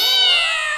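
A single cat meow, short and drawn out, close and loud against a quiet background.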